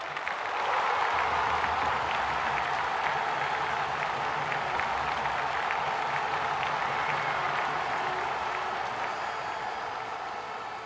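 An audience at the Blacksheep Digital Awards 2022 gives sustained applause, with dense clapping mixed with crowd noise that rises, holds for several seconds and then slowly fades.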